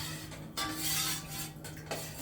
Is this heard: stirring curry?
yes